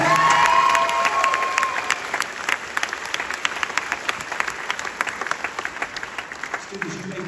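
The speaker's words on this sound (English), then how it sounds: "Let's go ahead and give them a round of applause." An audience at a middle school spring advanced band concert claps for letter earners in a dense, steady round of applause that slowly fades, with a few scattered claps and cheers.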